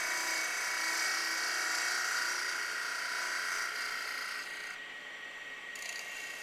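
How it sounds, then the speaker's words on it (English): A chisel moves slowly across spinning timber on a wood lathe, giving a steady, close scraping hiss that softens slightly toward the end, with no talking. "So just moving the chisel really slowly across the surface of the timber."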